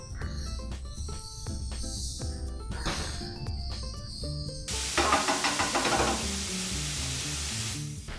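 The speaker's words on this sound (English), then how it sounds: "Increase your flame and fry till oil separates." Tomato masala sizzles in hot oil in a pan over a high flame, a steady crackling hiss that grows denser and brighter halfway through. There is background music and no talk.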